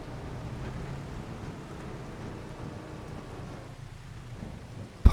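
Rain and thunder in Farming Simulator 25 make a low, rolling rumble under a steady wash of rainfall, fairly quiet and even, ending in a sudden loud bump.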